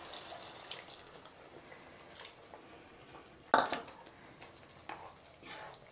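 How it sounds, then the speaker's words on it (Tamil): A spoon stirs paneer gravy in a pan after water is added, making soft, wet scraping and sloshing with a sharper clink midway and faint sizzling beneath. "நல்லா கிளறி விடுங்க."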